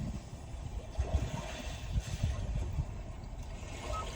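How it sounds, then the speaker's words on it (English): Calm sea waves played as a built-in nature soundscape through the cabin speakers of a 2020 Hyundai Palisade Calligraphy Limited, a soft, steady low wash with gentle swells rising and falling, moderately quiet, no talk. "calm sea waves"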